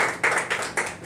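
Audience at a company meeting clapping together, a burst of close rhythmic applause with claps pulsing in quick groups.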